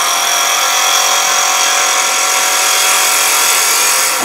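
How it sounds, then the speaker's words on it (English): A wood lathe spinning a spindle while a spindle gouge makes a steady bevel-rubbing cut across the wood, giving a loud, even, continuous whirring hiss with no pauses and no talk. "I'm going to turn the rest of that bevel there, bevel rubbing straight across."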